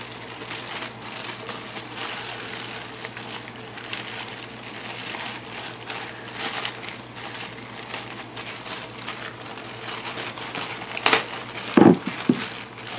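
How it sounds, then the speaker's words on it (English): A plastic bag crinkles and crackles continuously as it is opened and handled up close, with a few louder rustling bursts toward the end. "It's in another plastic bag."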